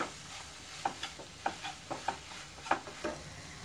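Kachori dal roasts in a pan with a faint background hiss, while a spatula gives soft, irregular scrapes and taps that stay quiet and close.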